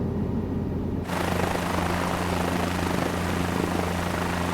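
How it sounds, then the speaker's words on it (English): A helicopter in a flight simulator game hovers with a steady, loud rotor and turbine roar that thickens after the first second and holds evenly throughout, with no voices. "I'm learning how to fly a helicopter just like Tom Cruise."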